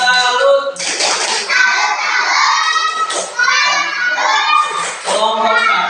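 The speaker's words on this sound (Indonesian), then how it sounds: "kasih tepuk salut buat kelompok satu" A classroom group of children claps together and shouts in unison as a salute for one group, loud and close with chanting voices over rhythmic claps.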